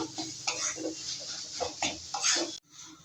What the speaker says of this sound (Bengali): এটা আমি ভালো করে নাড়াচাড়া করে মিশিয়ে নেবো